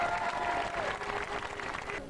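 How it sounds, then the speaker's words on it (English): Applause at a 2004 county champions homecoming for the Ardara GAA club, a short, steady burst of crowd clapping heard from a moderate distance that fades toward the end. "I'd like to give them a big round of applause"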